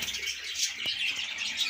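Ring-necked doves on a farm in a steady, faint chorus of soft bird calls and chirps, with a brief flutter or tap midway and no talking.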